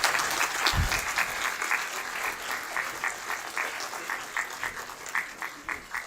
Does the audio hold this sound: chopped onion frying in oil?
no